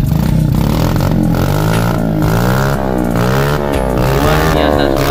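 A Suzuki Smash 110cc engine fitted in a mini trail motorcycle revs loudly up and down close to the microphone, its throttle rising and falling in repeated sweeps with a mechanical clatter underneath.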